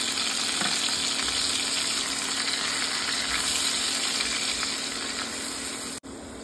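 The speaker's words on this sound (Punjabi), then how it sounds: "ਟਮਾਟਰ ਪਿਆਜ਼ ਦੀ ਜਿਹੜੀ ਆਪਾਂ ਪਿਓਰੀ ਪਾਈ ਹੈ ਇਹਨੂੰ ਆਪਾਂ 2-3 ਮਿੰਟ ਦੇ ਲਈ ਭੁੰਨਾਂਗੇ।" Tomato, onion and green chilli puree frying in a pan with golden garlic-ginger paste, a steady dense close sizzle that holds evenly throughout before a brief dip near the end.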